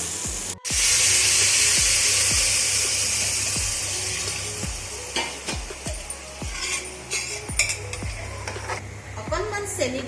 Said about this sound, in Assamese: অলপ দেৰি ভাজি লওঁ, তাৰপিছত পানী দি দিম।